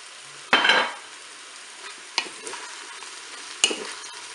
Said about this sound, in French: Je vais maintenant ajouter mes champignons.